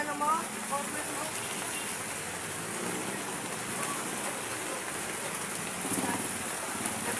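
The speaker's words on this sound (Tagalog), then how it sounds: "Lakas ng ulan." Steady, dense hiss of heavy typhoon rain pouring down, a constant wash of noise with faint voices murmuring underneath.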